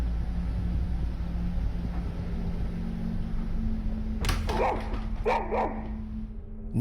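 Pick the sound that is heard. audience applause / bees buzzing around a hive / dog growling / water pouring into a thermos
dog growling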